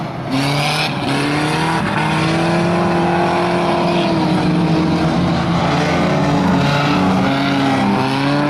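Unlimited rookie banger racing cars roar around Swaffham Raceway while a big old Volvo is dragged away, engines droning loud and continuous with shifting revving pitches and no talk.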